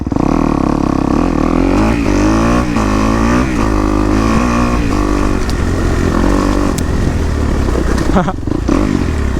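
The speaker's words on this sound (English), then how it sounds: "So, start her up in neutral, right?" A four-stroke dirt bike engine runs loud and steady throughout, its rumble rising and falling with revs as it starts up and pulls away.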